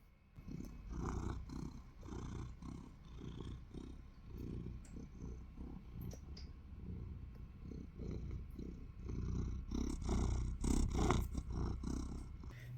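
A pet cat purring close up, a steady low rumbling purr that swells and fades with each breath and runs continuously, growing a little louder toward the end.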